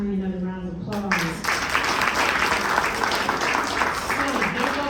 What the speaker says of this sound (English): Give Tanya another round of applause.